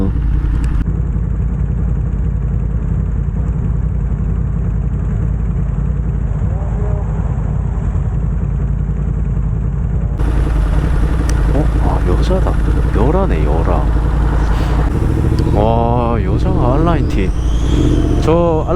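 A boxer-engine motorcycle idles steadily with a low, throbbing rumble, then revs and blips several times as the pitch rises and falls, close by.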